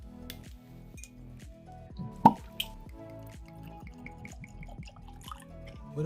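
Widow Jane whiskey is poured into a glass, giving a run of quick, close liquid glugs and drips with a couple of sharper glassy clinks partway through, quiet and without talk.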